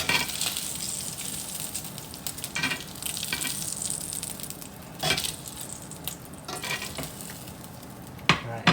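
Bacon sizzles in a skillet with a steady frying crackle, broken by a few scraping and clinking sounds as the pieces are stirred and lifted out.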